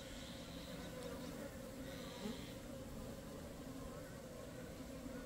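Asian honeybees buzz in a faint, continuous drone at a hive entrance while guard bees keep driving intruders back out, with someone speaking softly over the hum.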